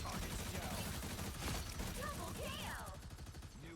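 Punisher's culling turret in Marvel Rivals firing a dense, continuous burst of rapid gunfire, loud and close throughout, with game effects and other sounds layered over it.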